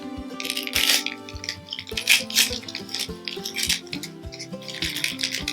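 Paper wrapping on a Ganpu citrus pu'er tea being opened, with dry rustles, light crackles and small clinking knocks, close and fairly quiet, in uneven bursts.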